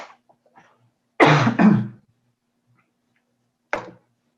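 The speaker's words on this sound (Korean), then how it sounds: "기침을 많이 하시는 것 같은데" An adult coughs in a quiet room: a loud double cough near the middle, then one shorter cough a couple of seconds later, with faint small noises before.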